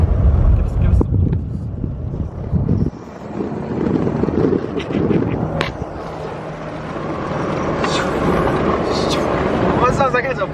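An Isuzu Bighorn truck fitted with an upgraded turbo winds down with a whooshing spool heard through the intake, a loud engine roar that drops off and settles into a softer hiss, recorded from inside the cabin.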